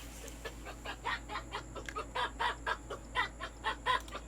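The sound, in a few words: chickens clucking in the video game Fishing Planet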